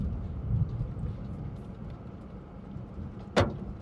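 A single sharp crack as large hail smashes a car windshield during a tornado storm, standing out over a low rumble of wind and rain.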